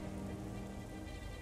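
Steady rain patters over the surface in the video game Tomb Raider The Angel of Darkness, a dense even hiss with no distinct drops standing out and no voices.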